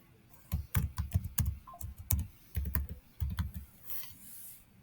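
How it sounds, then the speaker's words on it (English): Someone typing a password on a computer keyboard, two quick runs of close, crisp key clicks separated by a short pause, with no talking. "type the new password"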